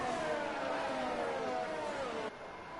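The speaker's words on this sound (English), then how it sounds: "That is a horrible engine noise." An F2 race car engine in a Japan round of a racing video game, a continuous whining drone with steadily falling pitch, fairly faint and alone, shifting tone near the end.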